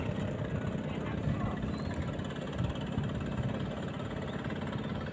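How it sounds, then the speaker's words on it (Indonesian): Boat motor chugging steadily on the Sungai Sidang river, a low, moderately distant engine hum with faint knocking and no break over its length. "Itu motor ya guys, motor air, bukan motor darat."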